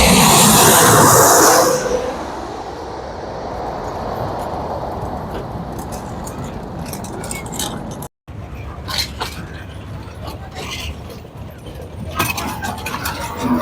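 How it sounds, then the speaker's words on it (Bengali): An airplane at Dhaka's Uttara airport runway: a loud roaring rush dominates the first two seconds, then a steady, lower engine drone persists with scattered ticks and rattles nearby, under faint outdoor ambience. "এটা অনেক বড় মনে হচ্ছে বিমানটা"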